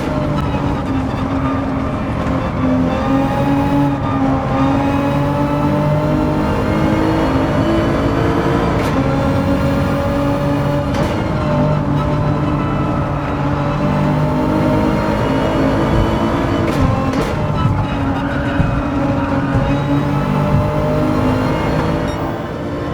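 A Nissan GT-R 2024 races through an infield section in Gran Turismo 7, its engine holding a loud, steady, continuous roar with layered harmonics and occasional brief shift-like dips, with no talk over it.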